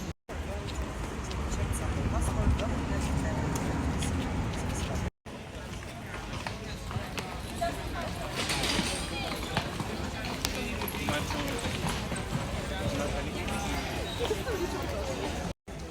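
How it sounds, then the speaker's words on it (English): Horse hooves clip-clop across the cobbles of Krakow's historic main square, steady and moderately near, mixed into a busy street hum of crowd chatter and passing traffic, with people talking throughout. "The horses are massive."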